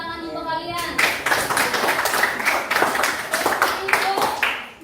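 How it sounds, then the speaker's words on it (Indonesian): Children in a classroom clap together in a quick burst of sharp, rhythmic claps for about four seconds, close and fairly loud, with a teacher's voice around them. "Tepuk tangan untuk kalian."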